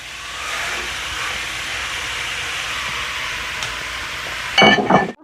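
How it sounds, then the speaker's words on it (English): A little over 400 grams of porcini mushrooms cooking in a pan give off a steady, even hiss for several seconds, then a short clatter of stirring as the sound cuts off. "Cooking our mushrooms here"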